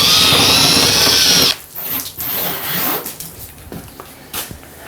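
A power drill whines loudly as it drives studs through a wall, then cuts out into short bursts of quieter whirring and clicking.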